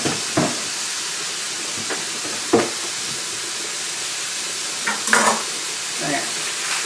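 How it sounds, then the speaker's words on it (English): Onions fry in a pan on a home stove, a soft steady sizzle underneath occasional scrapes and stirs of a utensil, moderately near and alone without talk. "It's frying behind me."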